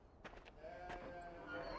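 Sheep bleat a few times in the video game Beyond Two Souls, short nasal calls near the start and again around midway, over a steady ambient farm backdrop.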